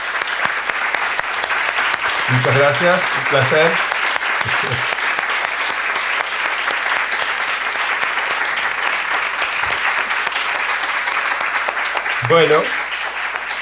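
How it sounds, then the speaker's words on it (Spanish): Sustained audience applause after a talk on the conquest of Mars, a dense continuous clapping that runs throughout, with someone speaking briefly over it near the start and again near the end. "vamos a darle un aplauso"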